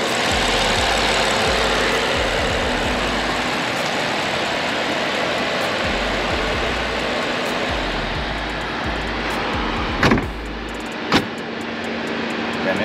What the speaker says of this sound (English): A powerful V12 engine.